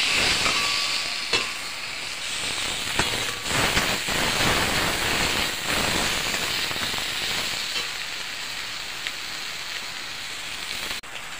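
A rohu fish head fries in a wok with a loud, steady sizzling hiss that runs throughout, broken by a few sharp spitting crackles; no one speaks.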